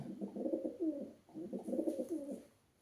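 Two rounds of soft, low pigeon cooing, rolling and throaty, close by with a short pause between them.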